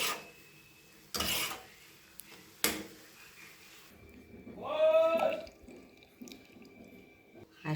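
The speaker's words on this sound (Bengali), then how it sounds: "এই যে আমার চাটা হয়ে গেছে। আমি এখন ঢেলে তোমাদের দেখাবো।" Freshly made tea is poured into clay cups. Two sharp knocks come first, then the liquid streams in with a gurgling tone that rises in pitch for about a second, close and fairly quiet, with no talk.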